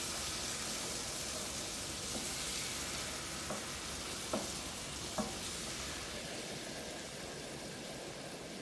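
Mushroom gravy sizzles steadily in a hot pan, a constant hiss of frying with a few soft clicks of a utensil stirring through it, fairly quiet and with no talking.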